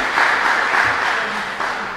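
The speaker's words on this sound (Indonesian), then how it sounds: "Tepuk tangan dong untuk panitia." An audience at a Catholic Holy Week recollection gathering claps for the organizing committee, a short burst of dense applause that fades slightly toward the end.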